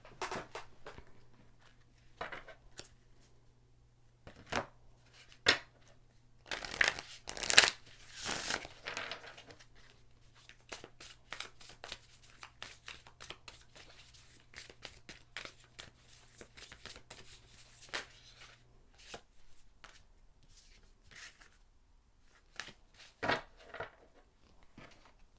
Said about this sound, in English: So while I'm shuffling your cards